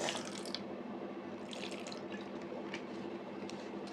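Water runs from a tap in a kitchen during cooking, a steady close splashing and hiss with brief louder bursts and no talking.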